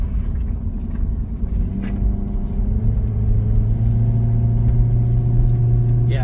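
One-ton truck engine pulling up a steep 16% grade, a close, loud, steady low rumble with the engine note rising slightly midway and holding firm, plus road and cabin noise.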